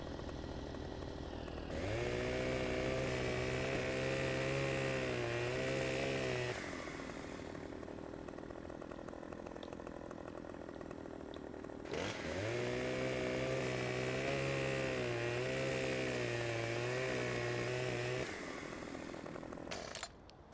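A chainsaw in Farming Simulator 17 revs up to a loud, steady cutting whine through trees, holding for several seconds, dropping to idle, then revving into a second long cut.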